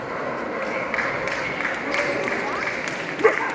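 Steady audience applause fills the hall at an international purebred dog show in Lublin, a continuous wash of clapping at moderate loudness with a brief louder knock near the end.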